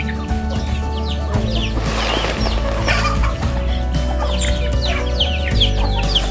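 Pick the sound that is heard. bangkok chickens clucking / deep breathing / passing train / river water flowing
bangkok chickens clucking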